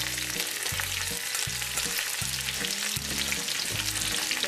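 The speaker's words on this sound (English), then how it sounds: "Got some sizzle." Food fries and sizzles in a pan over an outdoor fire for a shore lunch, a dense steady hiss with faint crackles and low background thumps, close and continuous with no talk.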